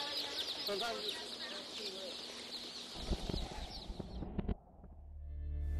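Many baby chicks chirp and peep in a dense, continuous chorus at a commercial hatchery, joined by scattered knocks and clatter from handling near the end.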